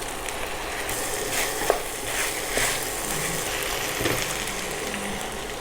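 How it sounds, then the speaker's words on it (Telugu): Chopped tomatoes go into a pan of cooking cluster beans curry, giving a steady sizzle and frying hiss with occasional stirring knocks and no talking. "3 టమాటాలు కట్ చేసుకొని వేసుకోవాలి."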